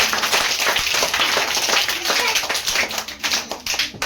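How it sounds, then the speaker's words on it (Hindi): A room of young coaching-class students clapping together for a classmate's prize, a dense, steady patter of hand claps at close range that thins toward the end, with faint voices mixed in. "चलो, तो ताली मार दो सब बेटा।"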